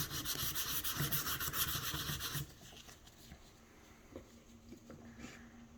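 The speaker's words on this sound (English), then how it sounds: "we are just going to get our sandpaper a little bit damp and sand." Rhythmic rubbing strokes of damp sandpaper wet sanding a prop for a couple of seconds, then quieter handling noises and soft taps.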